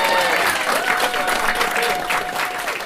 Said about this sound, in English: This is not a sound effect, it is genuine, real-life, raucous applause